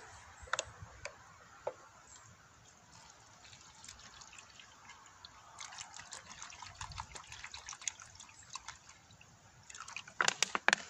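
Water from a bottle trickles and drips onto a Chinese skimmer coated with two layers of multi-surface gel coat, with soft irregular ticks and splashes, quiet and close, building to a denser patter at the end.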